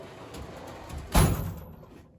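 A metal drawer on a US General tool chest slides and shuts with a single solid thump partway through, followed by a fading rattle, fairly close and heard alone.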